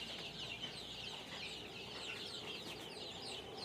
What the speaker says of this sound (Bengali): আপনারা চাইলে সবাই ছাদের উপর অল্প পরিসরে দেশি মুরগি পালন করতে পারেন